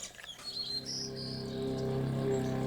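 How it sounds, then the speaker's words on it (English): Birds bathing and drinking at garden fountains chirp and tweet in clear repeated calls over a steady low hum, close and fairly distinct, with no voices. "I wanted you to see some of the birds that are taking baths and drinking out of the fountains."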